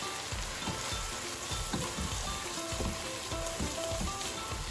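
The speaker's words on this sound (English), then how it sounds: "at this point I'm going to add my peas and corn to it" Peas and corn fry in a pan with hot oil, a dense continuous sizzle with faint stirring scrapes, close and steady throughout, no speech.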